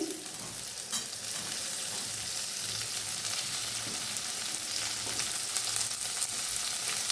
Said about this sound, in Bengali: দেখো করলা ফ্রাই হচ্ছে। এবারে একটু কুচনো পেঁয়াজ দিয়ে দিচ্ছি।